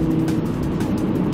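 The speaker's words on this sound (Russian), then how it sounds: "Вот по выхлопу и пятицилиндровому мотору могу сказать, что слух мой этот звук ласкает." Audi RS3 five-cylinder engine exhausts with a steady, loud, rumbling drone at close range, holding a fairly even level throughout on a winter drive.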